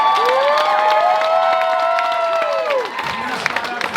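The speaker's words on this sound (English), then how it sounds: "Round of applause for our panelists." A convention audience at a horror fan event applauds and cheers for panelists. Steady, dense clapping is topped by a sustained whistle-like tone, then trails off into scattered claps near the end.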